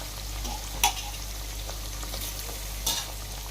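Onions, green chilies and tomato frying in a pan for Telangana-style chicken pulao, with a steady close sizzle and a few sharp scraping stirs of a spoon against the pan.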